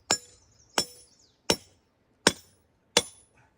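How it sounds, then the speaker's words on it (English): A 2- or 4-pound hammer strikes a rock while mining Herkimer diamonds, giving five sharp ringing clinks at an even, unhurried pace, each decaying quickly into quiet. "Now I use a 2-pound and 4-pound hammer only because you got to do it all day."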